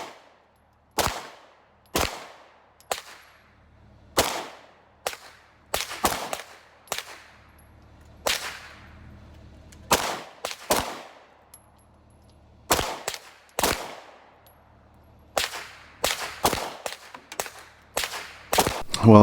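Single shots from an STI Tactical 4.0 9mm pistol with a red dot sight crack out one at a time, sharp and loud with short echoing tails, spaced at irregular intervals and sometimes in quick pairs.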